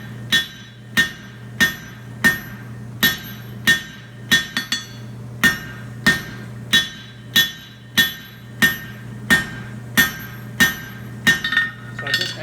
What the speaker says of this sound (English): I'm going to forge in the swell that I got. And just taper them a bit.